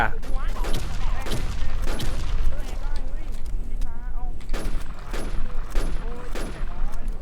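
Video game gunfire rattles in repeated bursts of shots, loud and close, with game noise and voices mixed in throughout.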